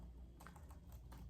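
Quiet, rapid keystrokes on a computer keyboard as a web address is typed, a short burst of close, light clicks over a low background hum.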